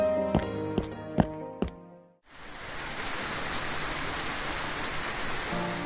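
A few sharp taps ring out, then heavy rain suddenly pours down in a steady, dense roar that continues without pause.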